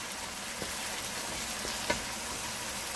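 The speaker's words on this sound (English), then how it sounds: "The onion, the garlic, the green onion, and the tomato frying into the hot oil." Onion, garlic, green onion and tomato sizzle steadily in hot oil for a Guyanese hassar curry in coconut cream, with a constant close frying hiss and a few faint clicks.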